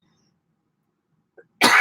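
Near-silence, then a single loud, close cough bursts out at the very end.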